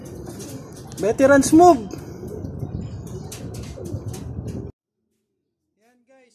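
Racing pigeons coo on arrival at a loft during a training release, soft repeated coos close by, with someone talking over them before the sound cuts out.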